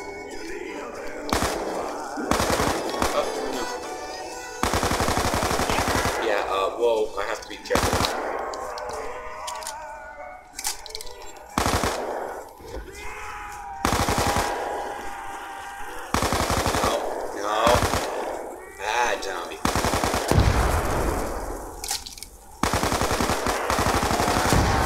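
Bursts of automatic gunfire from a weapon in Black Ops II Zombies on the Farm map, loud repeated volleys with short pauses between them, mixed with game noise and a voice talking over parts of it.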